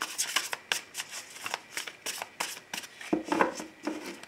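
A deck of tarot cards is shuffled and cut by hand, making quick repeated riffling flicks and soft slaps in an irregular rhythm, close and fairly quiet with no speech.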